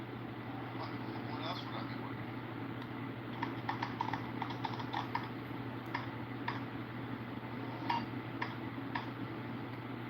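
Fingers tap on a computer keyboard in a quick, irregular patter of light clicks. The clicks sit over a steady low hum and continue throughout.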